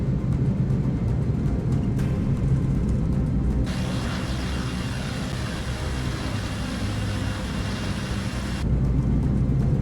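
An airliner's jet engines at takeoff power, a loud steady roar with broad rumbling noise holding at nearly constant level throughout and no voices over it.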